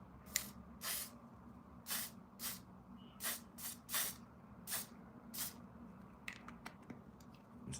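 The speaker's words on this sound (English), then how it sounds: "now I'm just gonna spray that hairspray thing" Short bursts of hairspray from an aerosol can during a makeup routine, about a dozen quick hissing puffs in an irregular rhythm, close and fairly quiet, with no talking.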